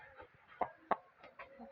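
A domestic chicken clucks in short, separate bursts, several distinct calls over a second or two, fairly close but not loud, with faint background noise and no clear talk.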